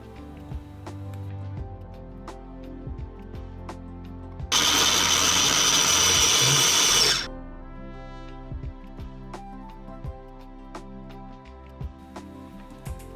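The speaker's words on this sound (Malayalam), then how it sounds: "അതുപോലെ ഒരു കൈ നിറയെ പുതിന ഇലയും കൂടെ നന്നായിട്ടൊന്ന് ക്രഷ് ചെയ്തെടുത്ത്" An electric mixer grinder crushes green chillies and mint leaves in a steady, loud whirring burst of about three seconds, set against soft background music that continues before and after.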